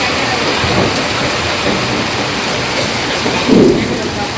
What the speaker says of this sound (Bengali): দেখো ঝড়ের পরে কি বৃষ্টি নামলো, মুষলধারে বৃষ্টি।